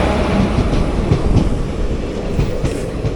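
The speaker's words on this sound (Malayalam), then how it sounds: "ഇപ്പോൾ നിന്ന് മലബാർ കയറി വന്നു" A Malabar Express train arriving at Kollam station, its loud, close rumble of wheels and carriages rolling steadily with rhythmic clickety-clack over the rails throughout, with no voices.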